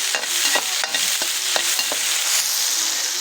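Onions frying in a pan for a simple village-style vegetable dish, a bright continuous sizzle broken by quick rhythmic stirring scrapes, close and fairly loud, no talking.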